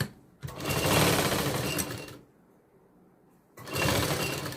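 A sewing machine stitches a blouse in two close, loud bursts of rapid whirring, separated by a short pause.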